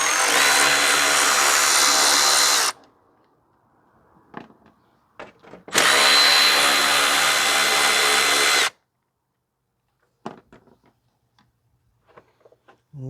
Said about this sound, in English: So we are going to remove the bolts holding this air box in place.